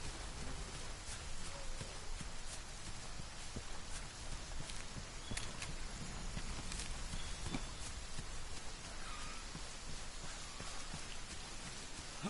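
Rain in the video game Monster Hunter World patters in a steady, fairly quiet wash, with scattered sharper drop taps over a continuous hiss and no speech.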